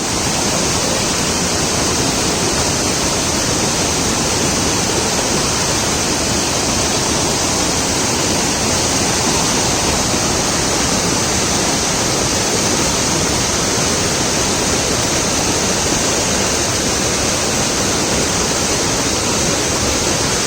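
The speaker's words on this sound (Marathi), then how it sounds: "आज भरपूरच पाणी इला" A constant powerful rush of floodwater surges over a dam after heavy rain, loud and unbroken throughout, with no talking audible.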